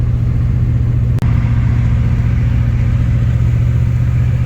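Car engine runs steadily while driving, a loud continuous low rumble with a brief dropout early on, the vehicle cruising along at an even pace.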